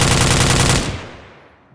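A rapid burst of automatic gunfire from an iClone 7 gunfight animation rattles loudly for under a second, then decays into a fading echo.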